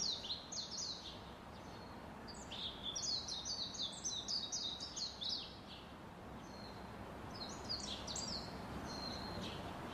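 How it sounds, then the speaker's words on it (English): An Asian fairy bluebird gives bright, liquid whistled calls in short clusters, repeated several times against quiet forest ambience. The calls are clear and moderately close, and no one speaks. "number five is the Asian fairy bluebird"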